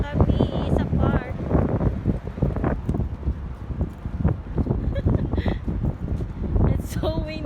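Strong wind buffeting the microphone outdoors on the way to a park picnic in Abu Dhabi, loud gusty rumbles in repeated bursts while people talk.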